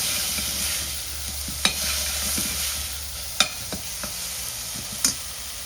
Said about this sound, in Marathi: हळद टाकल्यावर थोडंसं एकदा मिक्स करून घेऊया